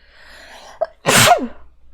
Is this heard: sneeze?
yes